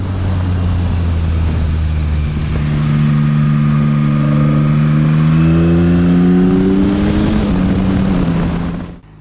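Yamaha MT-07 with its CP3 engine in restricted A2 form revving during a test ride, a loud steady engine drone that climbs smoothly in pitch as it accelerates, then eases off near the end.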